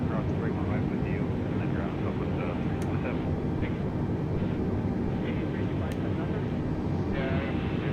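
In a flight simulator, a Delta Airbus A320 is pushed back with a steady, loud engine and APU drone and a few brief tonal chirps, while a voice talks faintly over it.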